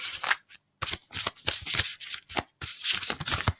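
Tarot cards are shuffled close up in quick bursts of riffling and rubbing, with short pauses between the papery flurries.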